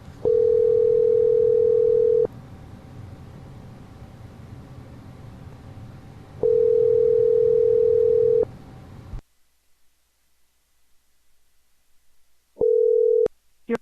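A telephone ringback tone sounds while a call is placed, two long steady tones a few seconds apart, then a pause and a short tone cut off abruptly.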